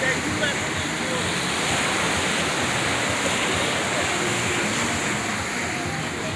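Ocean surf on a beach in the Dominican Republic, a steady broad wash of breaking waves heard close and loud with wind across the microphone, no talking.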